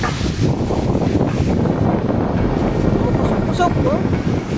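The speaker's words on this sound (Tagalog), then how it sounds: "yung hangin kumukusog-kusog talaga" Strong wind blowing outdoors at night, a steady loud roar buffeting the microphone throughout with no letup, a faint voice briefly audible underneath.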